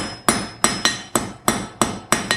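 Blacksmith's hammer striking hot iron while forging a taper, eight sharp ringing blows in an uneven rhythm, some in quick pairs, loud and close with no talking.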